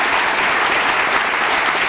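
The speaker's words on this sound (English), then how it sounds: "let's please give a very warm round of applause to Steve Chen for being here" A crowd applauds steadily for Steve Chen at an engineering-college evening conversation event, a dense, even wash of clapping filling the whole stretch without a break.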